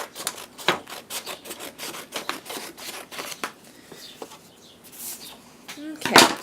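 Scissors snip along a folded piece of craft material for a pompom ice cream cone, a run of short close rasping cuts with brief pauses between them.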